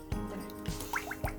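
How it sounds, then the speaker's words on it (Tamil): Coconut oil poured into a kadai (wok) makes a few soft, wet drips and splashes spaced about half a second apart. The sound is faint and close, with no voices. "ஒரு கடாய் வச்சு எண்ணெய் ஊற்றி நம்ம சூடு பண்ணிக்கலாம்"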